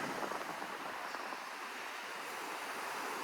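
Waves wash steadily onto a beach as a continuous broadband surf hiss, with some wind mixed in and no voices.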